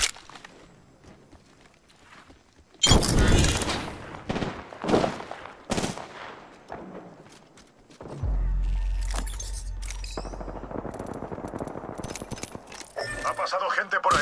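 Gunfire in the Apex Legends video game: loud bursts of shots start abruptly, with sharp cracks and a heavier, sustained stretch of fire in the second half, mixed with character voice callouts.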